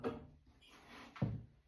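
An oven door swings shut in a home kitchen, giving two soft, hollow thuds about a second apart, quiet and close, with a light scrape between them and no talking.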